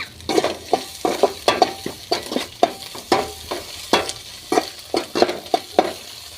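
Egg podimas is stir-fried in a pan, with a spatula scraping and tapping in quick irregular strokes over a steady sizzle, close up and with no voices.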